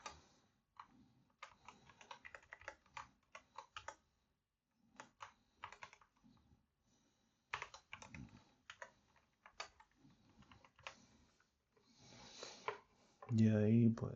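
Password being typed on a computer keyboard: bursts of quick, light key clicks in short runs separated by pauses, fairly close, with a louder clatter near the end.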